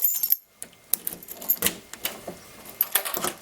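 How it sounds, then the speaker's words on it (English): Car keys jangling beside a Ford Thunderbird Town Landau coupe with a locking door, a series of light metallic clinks and rattles in irregular bursts, close and fairly quiet. "I got my keys."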